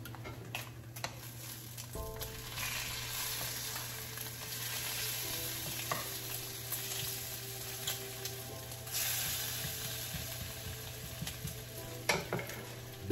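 Bacon fries in a pan with a steady crackling sizzle at moderate volume, scattered pops and faint clinks of a utensil over a low background hum, continuing throughout.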